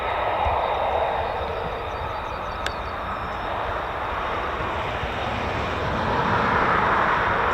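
F-35B stealth fighter jets make a continuous, loud roar at a military airbase, suited to short takeoffs, with the heavy noise rising slightly toward the end.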